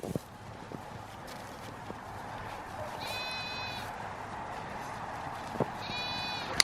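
Goats bleating on a farm, with two distinct harmonic bleats at moderate distance over a steady outdoor background, plus a few faint knocks and thumps.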